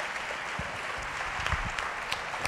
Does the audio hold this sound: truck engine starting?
no